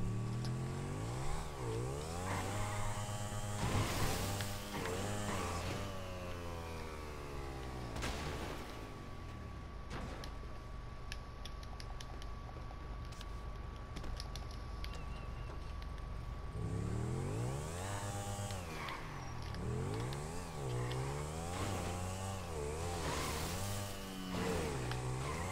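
Vehicle engine revving and surging in GTA V during a wheelie, rising and falling pitch sweeps with a steady drone between, moderately loud with no talking.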